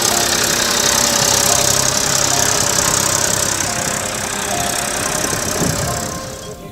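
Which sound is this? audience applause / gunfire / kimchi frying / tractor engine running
tractor engine running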